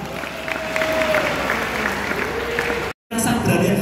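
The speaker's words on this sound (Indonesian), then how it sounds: "tepuk tangan sekali lagi buat teman kita" Audience clapping at a youth seminar during a school festival, a sustained dense round of applause filling most of the clip, briefly cut off near the end before resuming.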